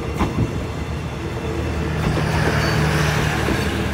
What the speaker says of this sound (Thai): นี่นะครับผ่านไปแล้วนะครับด่วนพิเศษทักษิณารัตน์ที่32นะครับ